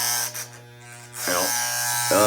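Electric hair clippers buzzing as they shave the sides of dreadlocks, a steady harmonic hum that dips briefly then returns closer and louder, with the pitch shifting as the blades meet hair; a voice is briefly present.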